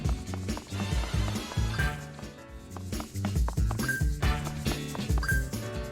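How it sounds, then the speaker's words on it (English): Quick, rhythmic footstep sound effects from the character Sonic in the video game Sonic Colors Ultimate patter steadily alongside game music and other effects, with no talking. "His walking animation is also slow and doesn't match with the footsteps sound effects we're listening."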